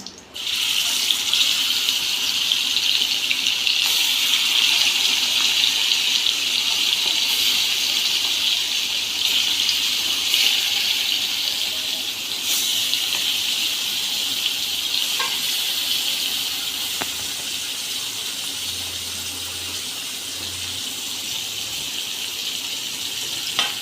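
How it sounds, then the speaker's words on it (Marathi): Marinated liver and curry leaves frying in hot oil, a loud, constant hissing sizzle close up that fades slightly over time, with faint stirring clinks and no speech. "तेल छान गरम झालं आहे त्यामध्ये आपण सात ते आठ कडीपत्त्याची पाने टाकू मॅरिनेशन केलेलं कलेजी पेठा"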